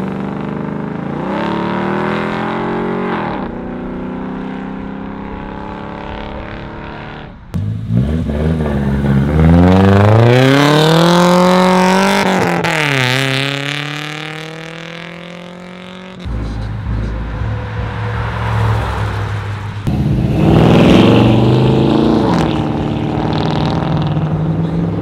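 A car pulls out of a cars and coffee meet and accelerates hard, its engine rising through repeated revving sweeps, then dropping and surging again, loud and close with no talk.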